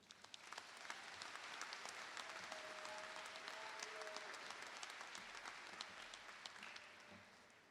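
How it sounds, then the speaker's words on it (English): Steady applause from a crowd at a college commencement ceremony fills the clip, many hands clapping continuously at a moderate distance, with a brief tonal whistle partway through. "One more round of applause, please"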